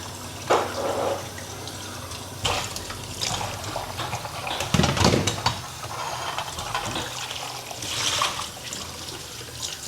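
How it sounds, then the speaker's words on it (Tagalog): Water runs from a tap in a hotel room in Italy, a trickling, splashing flow that swells and fades in several bursts, fairly close and moderately loud, with no talking over it. "Tubig."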